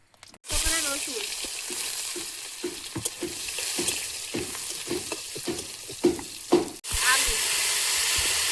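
Greens frying in a pot with dried red chilies and garlic pieces, a steady loud sizzle broken by repeated stirring scrapes, ending in a sharp clatter before the hiss resumes.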